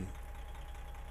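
Truck engine idling in American Truck Simulator, a steady low rumble with a faint knocking texture, continuous and alone.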